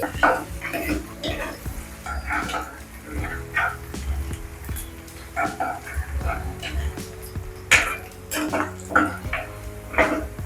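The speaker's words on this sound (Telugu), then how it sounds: "ఆయిల్ కొంచెం వేడి కాగానే ఆనియన్స్ వేస్తున్నా ఆనియన్స్ మంచిగా బ్రౌన్ కలర్ వచ్చేంత వరకు ఫ్రై చేసుకోవాలి" Onions frying in hot oil in a pan make a soft sizzle beneath frequent stirring scrapes and clatter. A dog barks intermittently nearby.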